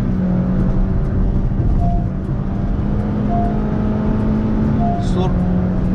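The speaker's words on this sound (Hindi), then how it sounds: "you can feel now the noise engine की जो अंदर आ रही है" Inside the cabin of a 2020 Honda City with a CVT, a steady engine drone and road rumble continue as the car accelerates toward highway speed, with someone talking over it.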